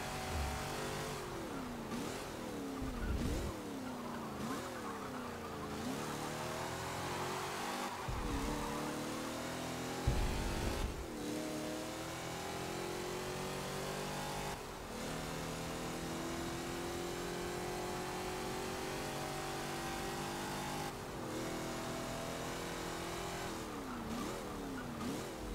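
Race car engine in Forza Motorsport 7 revving and shifting through gears, pitch rising and falling in repeated sweeps with occasional tyre noise, loud and steady throughout with no talking.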